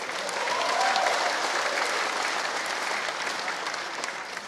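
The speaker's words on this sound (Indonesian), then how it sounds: "Tepuk tangan untuk kita." Loud, sustained clapping from a crowd at an Indonesian political rally, a thick unbroken wash of many hands close and full, holding steady for the whole stretch without speech.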